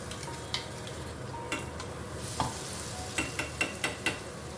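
Ground spice paste fries in hot oil with cumin, mustard seeds and turmeric, a steady sizzle broken by a series of sharp scraping stirs that come in a quickening run toward the end.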